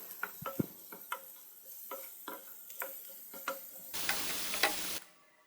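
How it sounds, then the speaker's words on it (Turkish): Mushrooms land on softened, browned onions in a pan, with a series of close utensil taps and stirring clicks over a light sizzle, then a louder, steady frying hiss for about a second before it fades. "Soğanlarım iyice kavruldu, e, yumuşadı mantarlarımı üzerine ekliyorum."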